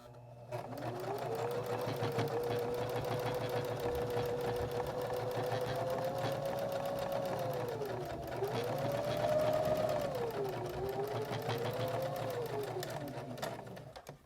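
A sewing machine runs steadily while chain piecing fabric pieces for a drawstring bag, a loud, continuous whirring stitch that dips briefly twice as the presser foot is lifted between pieces.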